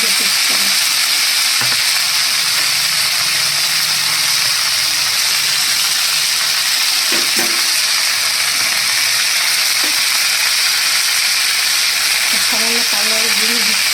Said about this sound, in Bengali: এর মধ্যে আমি সামান্য করে দেবো একটু আদা জিরে পেস্ট করে।